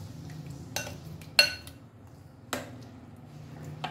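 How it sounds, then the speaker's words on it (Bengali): Tiffin batter being stirred in a bowl with a spoon, giving a few sharp clinks and scrapes against the bowl at irregular intervals over a low background hum, close and fairly quiet. "ভালো করে মিশিয়ে নেব।"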